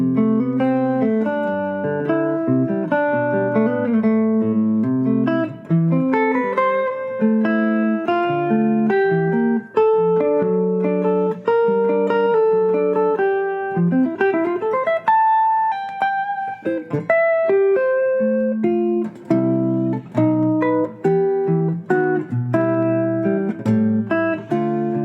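A guitar is freely improvised using open triads, with ringing chords and melodic lines played continuously and up close for about 25 seconds, without any talking.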